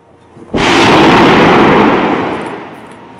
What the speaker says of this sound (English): then that would be followed briefly by the sound of that explosion